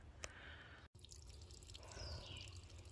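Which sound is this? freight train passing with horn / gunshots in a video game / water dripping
water dripping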